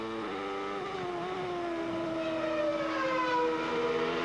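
A 1994 Formula One car with a rear-mounted Ford HB V8 engine, recorded onboard at Jerez, whines loudly and steadily, its harmonic pitch sliding as the revs shift, with no talking.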